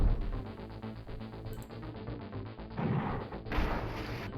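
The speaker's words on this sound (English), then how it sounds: "Uranium cannons for the win." Uranium cannons fire in the Space Empires IV strategy game, heavy crashing blasts that surge over looping game music and land in two loud bursts toward the end.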